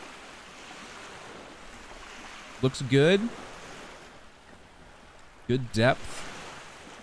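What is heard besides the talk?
ocean waves on the coast in a video game (The Witch of Fern Island)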